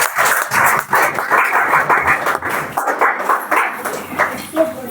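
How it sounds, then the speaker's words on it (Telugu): A church congregation clapping together at a Christmas service, dense rhythmic hand claps filling the room loudly and nearby, with some voices mixed in. "అందరూ చప్పట్లు కొడుతూ"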